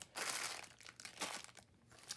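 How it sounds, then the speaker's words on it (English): Plastic packaging crinkles and crunches in close, irregular bursts while gold beads and vintage lace trim are handled for a DIY ephemera craft project, with no voice. "Excuse the crinkle."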